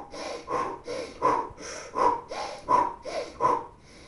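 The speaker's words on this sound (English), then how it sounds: "One of them is simply to breathe in via the nose and breathe out through your mouth." Slow, deliberate breathing in through the nose and out through the mouth repeats in a steady rhythm, about six audible breath cycles with soft inhales and louder, airy exhales, close up and alone.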